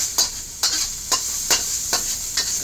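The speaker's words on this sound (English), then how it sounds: "we're gonna cook that garlic in there" Garlic, about six cloves, cooking in a hot pan for garlic chicken lo mein, a soft sizzle under a run of regular scraping stir strokes, about five in quick, even rhythm, close by.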